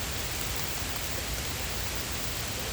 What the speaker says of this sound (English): It is raining so bad.